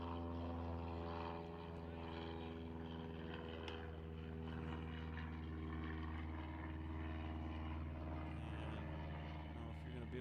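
Chinook helicopters pass over a baseball game, a continuous droning rotor and engine hum with steady layered tones, broad and sustained beneath crowd ambience and faint commentary.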